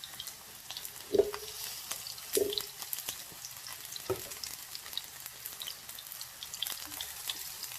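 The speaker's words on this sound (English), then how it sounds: "we're really just going to start frying those plantains" Plantains sizzle and crackle in hot oil in a skillet, a steady soft frying hiss with a few louder clinks of utensils against the pan.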